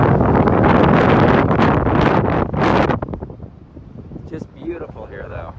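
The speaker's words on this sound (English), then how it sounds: "it is quite windy now because I'm away from the blob that was over there, trying to block the wind" Strong gusts buffet the microphone on Cannon Beach, Oregon, a loud roaring rush for the first three seconds that then eases into lighter, choppier wind with a voice speaking faintly underneath.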